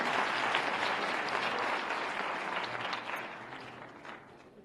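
Steady, fairly faint audience applause from young people at a youth dialogue program in Bhopal, a dense patter of many hands clapping that gradually eases off.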